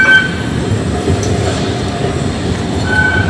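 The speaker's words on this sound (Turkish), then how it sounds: "Karşıdan da bir tane tramvay geliyor." A tram rumbles closer with a steady low roar of wheels on rails, a faint high squeal appearing at the start and again near the end.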